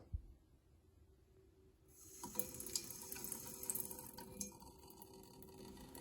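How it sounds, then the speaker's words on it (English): Cold water runs from a kitchen faucet, a steady broadband rush that starts softly and grows fuller after a couple of seconds, continuing alone and close by with no voices. "So I will open the only cold water."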